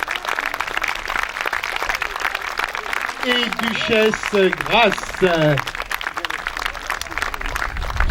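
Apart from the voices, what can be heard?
crowd applauding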